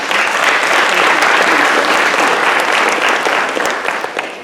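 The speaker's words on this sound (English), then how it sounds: "So will you give them a round of applause?" A dense round of applause from a conference audience honoring scholarship students, steady and loud throughout with no voices over it.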